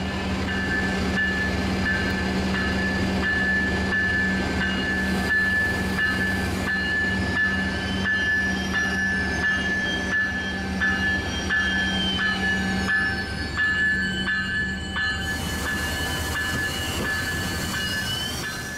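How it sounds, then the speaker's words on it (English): A Coaster commuter train rumbles steadily into a station, wheels grinding and squealing faintly beneath a constant mechanical drone that lasts throughout. "Shortly after, Coaster Train 672 makes its way in from Oceanside."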